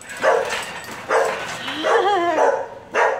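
Playful puppies, a Doberman mix and a retriever, let out several close, loud yips and barks in short bursts, one stretching into a wavering whine-like howl.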